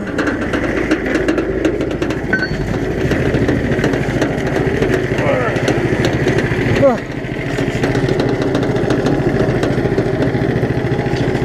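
A Power Fist 420cc engine fitted to a Case 700 tractor runs steadily with a loud, close rumble, rising briefly as it is revved, while someone talks over it.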